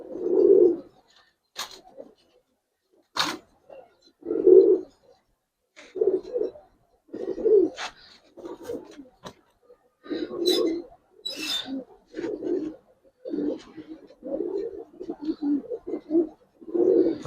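Gribaz silver pigeons coo in close, repeated low bursts with short pauses between them, and a few sharper wingbeat or scuffle sounds mixed in, with no talking.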